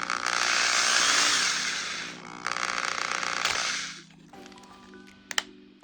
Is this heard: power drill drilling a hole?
yes